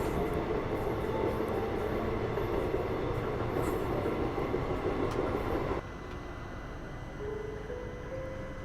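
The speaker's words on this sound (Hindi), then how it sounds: "इस ट्रेन के क्रॉसिंग के लिए काफ़ी देर से हम रुके हुए थे और ये है Nanded KSR Bengaluru express superfast" Nanded–KSR Bengaluru Express superfast train passing at a crossing, heard from a waiting train: a steady loud rumble of wagons rolling past for most of the clip, easing to a quieter hum near the end.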